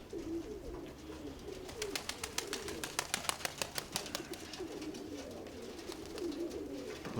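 Pigeons coo with low, repeated calls through a steady soft background, a dove-like murmur close by, while a rapid run of sharp clicks or flutters briefly rises midway.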